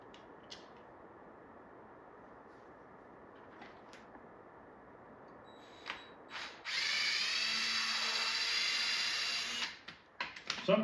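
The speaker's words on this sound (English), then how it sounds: "I had the perfect drill bit already in the drill." Power drill boring into a small part held with pliers, starting after a few faint clicks and handling noises, then a loud, steady high whine for about three seconds before it stops, followed by brief clatter.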